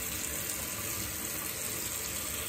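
Tap water runs steadily into a sink while a Meta-4 safety razor is rinsed, a constant close hiss with no breaks and no talking.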